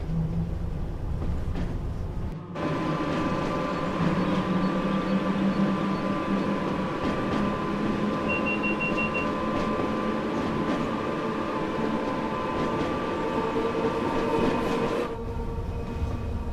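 A Class 86/4 electric locomotive in Train Sim World 6 pulls away, with a steady loud electric drone and motor whine under rhythmic rail noise and a brief tonal beep. The sound cuts off abruptly near the end.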